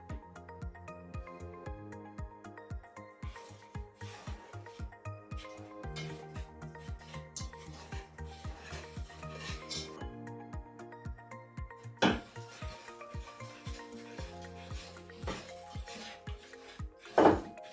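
Custard mixture with milk being stirred in a bowl, steady rhythmic clinks and scrapes of a utensil against the bowl repeating throughout, close and fairly quiet, with a few louder knocks.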